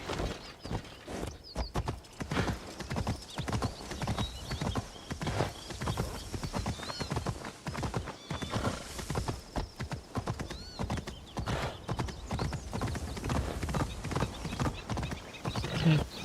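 Horse hooves clip-clop steadily in a video game, with a rapid rhythmic walking beat that continues throughout, mixed with faint game ambience and an occasional whinny.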